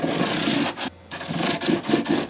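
320 grit sandpaper rubbing over the fret crowns of a Martin D-28 acoustic guitar, close rhythmic scratchy strokes broken by a short pause near the middle.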